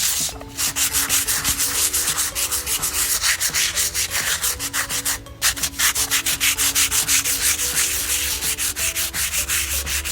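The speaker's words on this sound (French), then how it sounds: "Donc, j'ai poncé." Wood being sanded for a rounded bean-shaped DIY coffee table, a loud, close, continuous rhythmic rasp of back-and-forth strokes with one brief pause partway through, and no voices.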